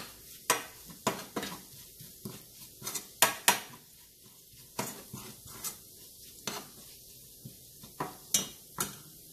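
Masala and fennel powder being mixed in a pan with a utensil, giving a run of sharp scraping clinks against the metal at an uneven rhythm, close and fairly loud over a soft background.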